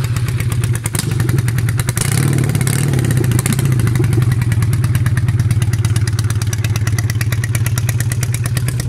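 A 400cc motorcycle runs at a loud, steady, thumping idle close by, with a brief burst of revving and clatter early on, in a workshop setting in Kenya.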